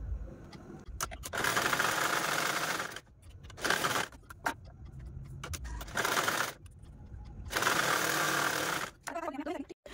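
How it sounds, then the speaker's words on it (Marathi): A sewing machine stitches along the edges of a baby bunny cap in several quick motorized bursts, each a few seconds long, separated by short pauses, close and clear. "आता कडेकडेने आपण स्टिच करून घेऊ।"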